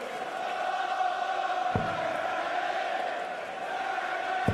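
A big darts crowd of about 10,000 at the O2 in Dublin chants a Scottish player's name during a Premier League match, a steady distant roar of massed singing with a few sharp thuds.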